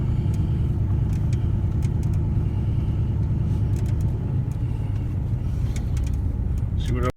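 A vehicle driving around a scrap metal area: a continuous loud rumble of engine and road noise from inside the cab, steady throughout, with a few light rattles and a short clunk at the end.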